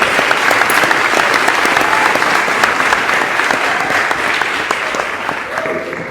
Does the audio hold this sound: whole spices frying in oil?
no